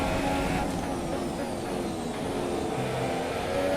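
F1 race car engines in the F1 2017 game, a steady loud droning whine at high revs with cars running close together, held without a break and alone.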